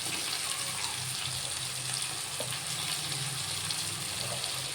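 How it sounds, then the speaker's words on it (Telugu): Ivy gourds going into a pan of half-cooked frying tomatoes make a steady, dense sizzle that holds at an even level throughout, close and without talk. "టొమాటోస్ ఇలా సగం వరకు ఉడికాక దొండకాయలు వేసేసుకోండి."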